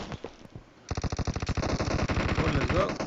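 UZI and Vector guns sprayed in a PUBG team deathmatch game: after a couple of sharp shots, a dense, rapid, loud burst of automatic gunfire runs continuously to the end.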